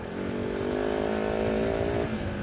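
A motorcycle is ridden along a sandy riverside track, its engine droning steadily near and fairly loud with a rough, rumbling hum and a slight rise in pitch before easing off.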